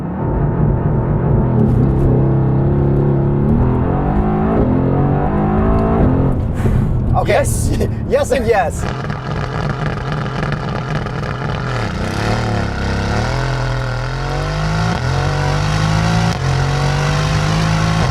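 A 2020 Mercedes-AMG GT R engine with a titanium muffler roars loudly throughout, its pitch rising and falling as it revs and shifts, while a voice speaks a few brief words over it.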